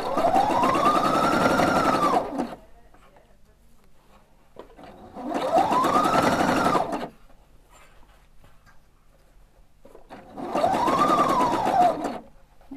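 A Husqvarna sewing machine zigzag-stitches along a fabric edge, holding the layers of a child's elephant hat together, in three loud close bursts of rapid whirring separated by quiet pauses.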